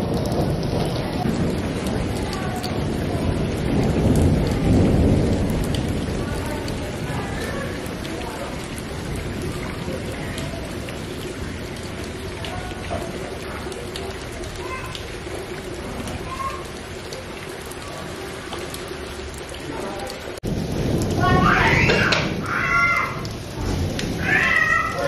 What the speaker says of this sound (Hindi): बारिश आज फिर से जो काफी तेज हो रही है और काफी टाइम से हो रही है।